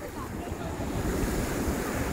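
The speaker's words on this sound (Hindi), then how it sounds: "ये देखो बड़ी बड़ी लहरें" Big ocean waves breaking on the shore at Palolem Beach in South Goa: a loud, continuous wash of surf with wind noise rushing across the microphone.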